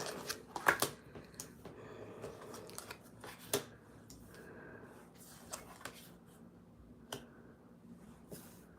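Tarot cards being shuffled and handled for a three-card reading: soft riffling and light snapping clicks, close and fairly quiet, with scattered sharper flicks and no talking.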